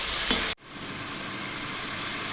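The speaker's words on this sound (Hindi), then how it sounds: "ये मसाला मैंने भून लिया है।" Masala spices frying in a pan for chana pulao, a steady close sizzle with a brief stirring scrape, then a sudden drop to a quieter, continuous hiss.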